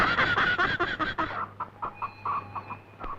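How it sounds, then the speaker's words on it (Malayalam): A store-bought hen clucks indoors near a table, giving a burst of rapid, agitated clucks that give way to sparser, quieter clucks, with no voices. "എടാ കോസറണ്ണ, ഇത് കാശ് കൊടുത്ത് മേടിച്ച കോഴിയാണ് കേട്ടാ"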